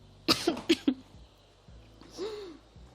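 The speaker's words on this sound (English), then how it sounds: "I'm gonna put these away and cough a little." A person coughs four times in a quick burst, close by, followed by a quiet breathy sigh or throat sound.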